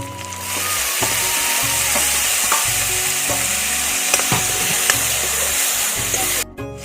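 Tomatoes frying in a pan for Maggi noodles, a loud, steady sizzle with occasional clicks and stirring scrapes, close and continuous until an abrupt cut at the end.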